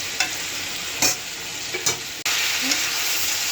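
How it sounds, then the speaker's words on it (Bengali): Bottle gourd sautés in a hot pan with a bright, continuous sizzle, broken by a few short scraping strokes from stirring and one brief cut in the sound. "লাউটা কষানো হয়ে গেছে"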